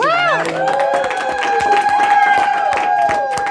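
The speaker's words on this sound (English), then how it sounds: "Give her a round of applause." A studio audience on a talk show claps and cheers for a guest seated among them: dense, steady applause with whoops and shouts layered over it, loud and close throughout.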